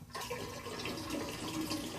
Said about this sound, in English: now we're going to fill it up with cold water